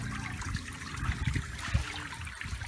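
Water trickles and splashes steadily from an artificial garden waterfall at a home, a close, bubbling flow with small gurgling bursts and no voices.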